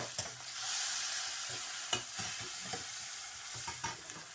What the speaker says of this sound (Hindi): अब मैं डाल रही हूँ टमाटर।